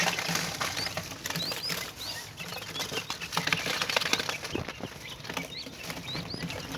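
Busy scuffling between a partridge and a quail, rapid wing flapping and patters, bird chirps scattered over a steady background of clucking and rustle from chicks, fairly close.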